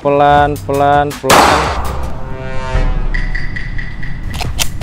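A single loud gunshot from a handgun at a shooting range during a first shooting lesson, sharp and close, followed by ringing decay and faint background noise after a brief moment of talk before it.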